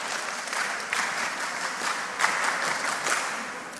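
A mentorship-session audience gives a steady round of applause, dense clapping running the whole time with a few sharper bursts, no voices over it.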